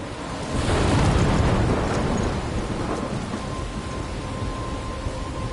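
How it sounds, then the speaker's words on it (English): A thunderstorm in the video game Life is Strange, with a loud rumble of thunder building early and rolling on over steady heavy rain that continues to the end. "I'm trapped in a storm?"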